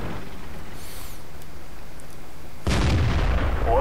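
A T-34-1 tank cannon fires in World of Tanks, one loud, close, booming shot bursting in sharply over a low steady engine rumble and ringing on afterward.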